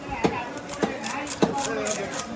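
Fish scaled by scraping at a busy Kottadi fish market, a close, rhythmic series of rough scraping strokes about every half second, with market chatter underneath.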